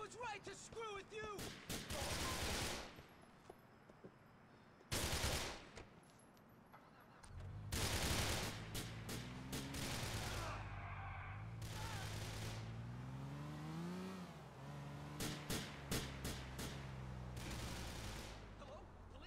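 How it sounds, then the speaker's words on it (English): Gunshots ring out in the crime video game GTA IV in loud, sharp bursts scattered throughout, some fired in rapid clusters, mixed with engine and street noise and a shouting voice. "Shots fired! Shots fired!"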